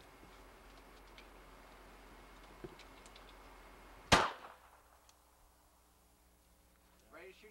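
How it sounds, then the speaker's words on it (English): A single handgun shot cracks sharply at an outdoor firing range in Savannah, Georgia, one loud report standing out against quiet background talk and a faint ringing decay. "now all you have to do is pull the trigger"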